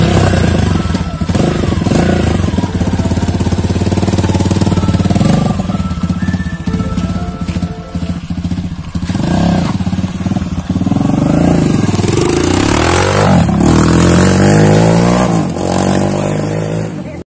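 A Kawasaki KLX motorcycle engine idles loudly and steadily up close, with a few revs, while people talk over it.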